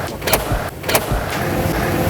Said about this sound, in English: You have to keep that almost rifle loading sound of how it locks and unlocks